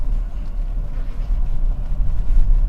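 A 2017 Toyota Altis 1.6 E automatic with factory CNG drives over a rough road surface, giving a steady, dense low rumble from the tyres and cabin that swells slightly toward the end, with no talking.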